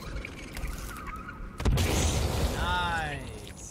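A grenade explodes in Sons of the Forest, a sudden loud boom midway that rumbles and decays over a second or so, with quiet speech before and a voice reacting afterward.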